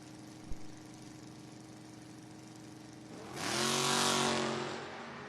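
Footbrake drag race cars at a Saturday meet rumble steadily at a distance, then surge into a loud, roaring acceleration as they launch down the strip, fading slightly at the end.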